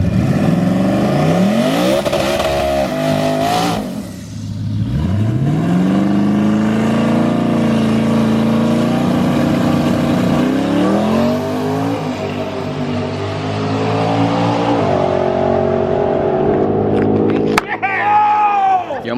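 A twin-turbo Mustang drag car launches hard and accelerates down the track, its engine loud and close. The roar climbs through the gears with sharp pitch jumps, then fades away toward the end.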